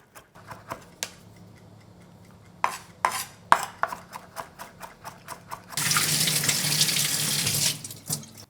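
Kitchen tap gushing steadily into a sink for a couple of seconds, loud and close, after a run of sharp knife chops and taps on a cutting board while preparing black beans.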